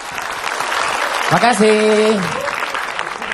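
Studio audience at an Islamic religious program applauding for a preacher, a dense, steady wash of many hands clapping throughout, with a short spoken word and a brief voice partway through.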